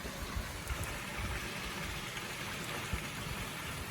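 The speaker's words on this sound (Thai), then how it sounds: "ดีใจจังฝนตกสักที" Rain falling on Koh Lanta in Krabi, a faint, steady hiss of drops with soft low patter throughout, distant and even, with no voices.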